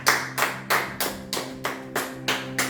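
A church congregation claps in unison at a steady beat, about eight sharp claps in under three seconds. The sound comes from a room at moderate distance, with a faint sustained hum behind it and no speech.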